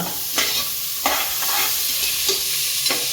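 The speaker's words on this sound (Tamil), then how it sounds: "வதங்குற வரையும் கிண்டிகிட்டே இருங்க அடி பிடிக்காமல் கிண்டணும்" Onions and sliced green chilies sauté in a pan for ghee rice pulao, with a soft steady sizzle and four distinct scraping strokes of a spoon stirring through them, close and alone.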